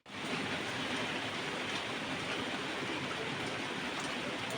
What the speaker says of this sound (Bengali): দেখো আবার বৃষ্টি নেমে গেছে।